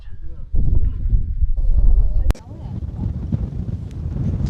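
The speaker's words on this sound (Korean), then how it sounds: "바람이 엄청나서 바람 소리가 들리려나 모르겠는데" Strong gusts of wind on the Cheonwangbong summit of Jirisan buffet the microphone in loud, rumbling bursts, dipping briefly mid-way before the roar returns.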